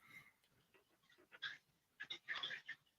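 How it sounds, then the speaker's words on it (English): A pet dog barks indoors in a few sharp, fairly close yelps, clustered in two short bursts with quiet gaps between them and no talking over it. "My dog's barking."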